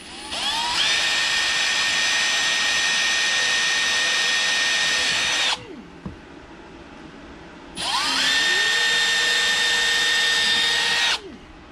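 A power drill whines steadily at high pitch in two long bursts, close by, with a short pause between them as it bores holes for a wakeboard mount on a Sea-Doo GTX.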